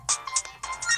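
A phone notification chime plays in short bright bursts, two tones early and a quicker run of tones later, close and fairly loud with no voices over it.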